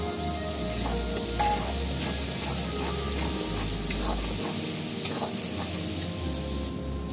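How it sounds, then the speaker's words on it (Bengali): Green peas tipped into a hot kadai for a potato dum, sizzling steadily and close, with occasional clinks of stirring against the pan throughout. "এবার এখানে দিয়ে দিচ্ছি আমি কড়াইশুঁটি।"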